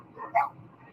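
A dog gives a single sharp bark at mid distance. A softer lead-in sound comes just before it, and quiet background noise fills the rest of the moment.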